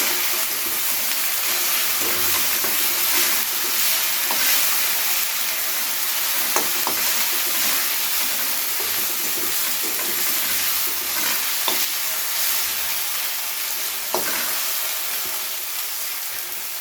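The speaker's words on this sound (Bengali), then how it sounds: "এবারে এই আদা, রসুন আর কাঁচা লঙ্কা বাটাটাকে খুব ভালো করে পেঁয়াজের সাথে আরও একবার কষিয়ে নিতে হবে।" Ginger, garlic and green chili paste sizzles steadily with onions in a hot pan for a katla fish curry, a continuous close frying hiss broken by occasional soft clicks of stirring.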